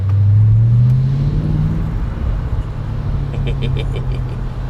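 A warm car engine revs loudly with the windows down, a deep rising roar that swells then settles into a steady throbbing rumble close by, with faint higher rattles near the end.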